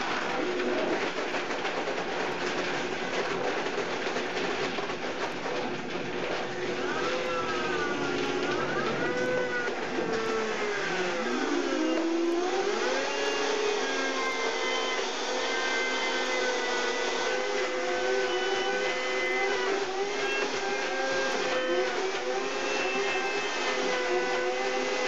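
A Vitamix blender runs continuously at high speed, a loud steady whirring drone with shifting tonal whine as the motor load changes partway through, heard alone for the whole stretch.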